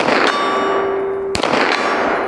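A single sharp metallic clang as a 9mm bullet strikes a steel gong at an outdoor shooting range, ringing briefly after a loud impact, preceded by a softer distant shot.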